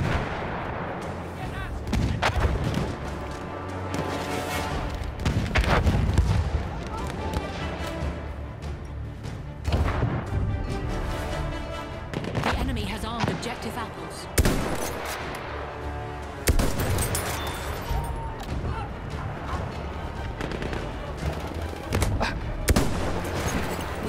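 Battlefield 1 combat, with nonstop loud gunfire and repeated booming explosions in dense, overlapping volleys that carry on throughout with no talking.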